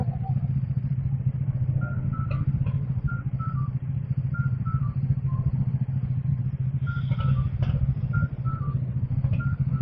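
Steady low motorcycle engine rumble idles through the whole stretch in a traffic jam, with occasional faint beeps and clatter of surrounding traffic.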